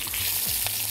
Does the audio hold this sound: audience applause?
no